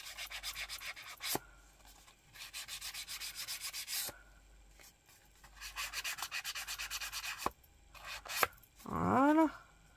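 A craft card's edges being inked with an ink pad make soft, close rubbing strokes in several rhythmic bursts separated by brief pauses, followed by a short squeaky scrape at the end.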